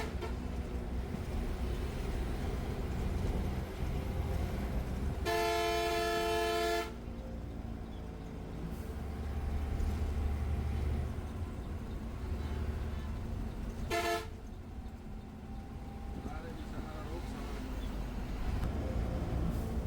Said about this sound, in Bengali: ইঞ্জিন সাউন্ডের থেকে বেশি আমি টার্বো সাউন্ডটাকে এনজয় করতে পেরেছি, যেখানে টার্বো সাউন্ডের জন্য কিন্তু মূলত মার্সিডিজ বেঞ্জের ইঞ্জিনগুলো বেশ বিখ্যাত।